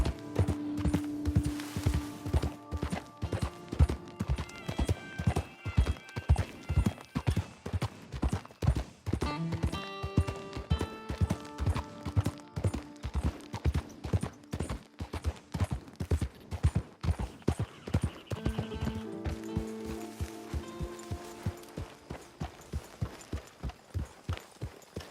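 Steady clip-clop of horse hooves trotting at an even rhythm for a long stretch in Red Dead Redemption 2, with a background musical score playing throughout.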